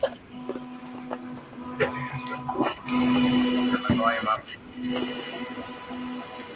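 A printer runs nearby in intermittent mechanical passes with a steady buzzing tone, starting and stopping, while a person talks over it.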